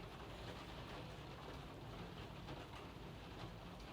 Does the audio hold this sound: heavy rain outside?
yes